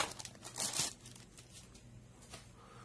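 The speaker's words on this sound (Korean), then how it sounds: "이거 비닐로 이거 부스럭거리는 게 이게 녹음되면 소리가 되게 크더라고" Plastic wrapping crinkles and rustles as a white Avante model car kit is unboxed, soft scattered crackles with one louder burst, close and quiet.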